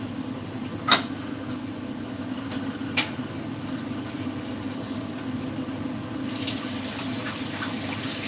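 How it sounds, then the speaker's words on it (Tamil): Steady running water splashes into a sink, with occasional clinks of dishes against the basin close by. "பாத்திரம் தேய்ச்சிக்கிட்டே நம்ம பேசலாம்"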